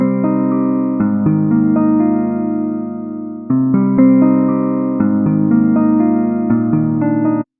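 A guitar processed through FL Studio's stock Hardcore plugin on its Jazz Guitar preset plays a bright, sustained chord sequence with steady strums and a brief pause midway, loud and up front.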